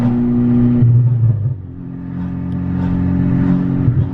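A Volkswagen MK6 Golf R with a timing fault and stock cams drives under light throttle, its engine droning loudly and steadily with a deep rumble that dips briefly, then builds again.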